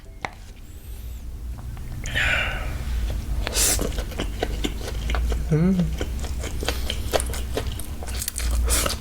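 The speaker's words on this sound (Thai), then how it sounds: "มากินสไปซี่จับเชนนิดนึงนะครับผม แบบเส้นแบบวุ้นเส้นเกาหลีผัดจะ เผ็ดๆนะครับผม" Close-up eating sounds from a serving of spicy Korean japchae glass noodles: soft slurps, wet chewing and clicks, with a voice talking now and then over the steady background hum.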